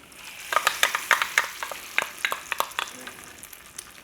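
Eggs hit melted butter in a wok and sizzle, with sharp crackling pops and spatters scattered over a soft frying hiss, close and lively for a few seconds.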